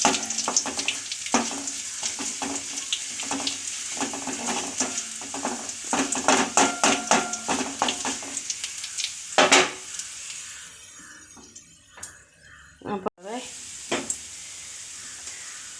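Spices sizzle in hot oil while being tempered for a jackfruit seed, mango and drumstick curry, a steady close crackle with sharp popping bursts that fades near the end and is followed by a few clinks.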